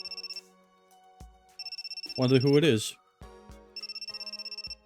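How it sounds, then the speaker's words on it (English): In the visual novel Riddle Joker, a phone ringtone chimes in three short rhythmic bursts. A voice speaks briefly between the rings. "But my phone suddenly rings."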